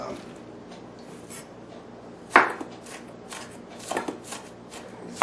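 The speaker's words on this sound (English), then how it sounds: "Throw a knife blade through that just a little bit more. Make it a little smaller in some spots here." A knife chops green pepper on a cutting board with a few sharp knocks of the blade spaced apart against soft background noise; there is no talk.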